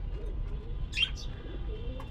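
Pigeons in a backyard loft give soft, low cooing murmurs over a steady low background rumble, with a couple of brief, sharper bird chirps breaking in partway through and one faint later call.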